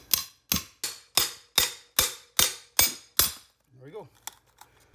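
Nine sharp, evenly spaced hammer blows drive an edge in like a chisel to break kitchen remodeling material along a line, each strike ringing briefly, followed by a short murmur of a voice and a faint clink.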